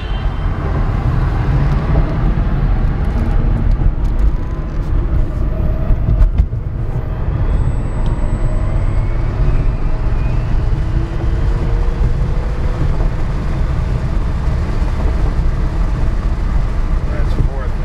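A fully electric 1978 Porsche Carrera with twin WarP 9 motors in fourth gear at about 75 mph, heard from inside as a steady road and wind roar. Someone talks over it.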